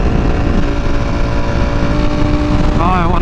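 A Ducati Panigale V4R fitted with a new exhaust drones steadily while being ridden, a continuous close engine hum at even speed, with a rider's voice faintly over it.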